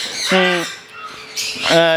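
A sun conure parrot chick lets out two loud, harsh squawks, one near the start and one near the end, with a softer call in between.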